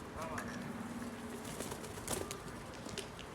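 Pigeons coo in a coop, soft low calls repeating among faint wing flutters and general rustling, with murmured background noise throughout.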